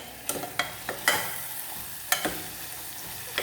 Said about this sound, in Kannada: ಇದನ್ನ ಹಾಕಿ ಒಂಚೂರು ಮಿಕ್ಸ್ ಮಾಡ್ತೀನಿ ಚೆನ್ನಾಗಿ